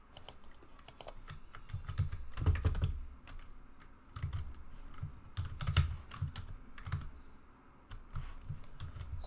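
A password being typed on a computer keyboard, with bursts of close, crisp key clicks in uneven runs and short pauses between them, and no talking.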